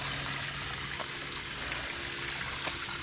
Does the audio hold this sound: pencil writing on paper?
no